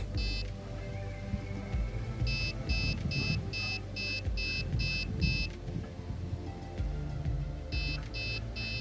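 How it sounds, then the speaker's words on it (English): Rapid electronic beeps from a fence post alignment device signalling the post is out of range, repeating in quick bursts, sharp and high-pitched, over a steady low rumble of background noise. "As you can hear, it will provide the beep sound once it's out of range."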